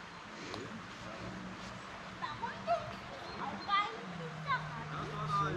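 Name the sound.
dog barking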